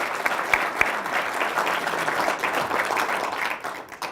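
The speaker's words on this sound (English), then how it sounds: "please let's give them a round of applause" An audience applauds at the sixth annual Aram Lecture on Business Ethics: a dense, steady wash of many hands clapping throughout, with a couple of sharper nearby claps standing out early on.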